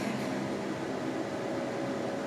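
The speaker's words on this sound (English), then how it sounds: "Can you hear the fan?" A steady electric fan whirs with an even, airy hum that stays the same throughout, with no voices.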